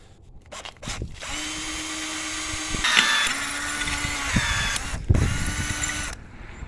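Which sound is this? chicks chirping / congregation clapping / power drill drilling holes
power drill drilling holes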